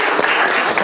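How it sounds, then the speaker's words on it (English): Comedy show audience applauding a group of four men who volunteered, a dense, steady burst of clapping filling the hall without pause. "give them all a big round of applause for volunteering"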